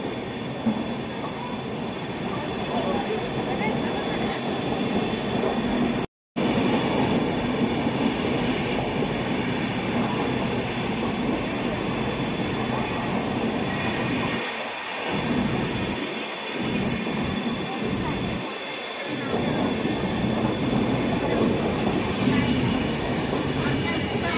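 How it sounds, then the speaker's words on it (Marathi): A slow Mumbai suburban local train bound for Chhatrapati Shivaji Maharaj Terminus rumbles steadily at a platform with broadband rail noise throughout, a brief dropout near the start, and a few low thumps later. "मुंबई छत्रपती शिवाजी महाराज टर्मिनसला जाणारी धीमी लोकल थोड्याच वेळात प्लॅटफॉर्म"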